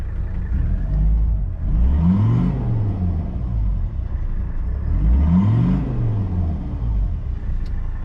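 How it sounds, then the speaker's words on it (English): A Mercedes 300 Turbo Diesel with a straight-pipe side-exit exhaust revs twice, each rev a rising then falling diesel growl over a steady idle rumble, close and loud. "But here it's revving"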